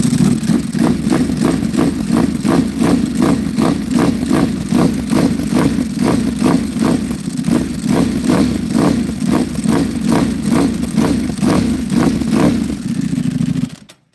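A motorcycle engine idles loudly up close with a steady, lumpy pulse, then cuts off abruptly at the end.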